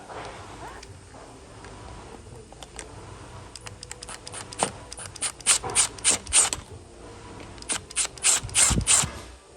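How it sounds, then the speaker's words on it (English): A screw is backed out of an Aeron office chair with a Phillips bit, giving close, crisp ratcheting clicks in irregular bursts that grow busier and louder toward the end. "next step would be to remove this screw right here, a Phillips bit"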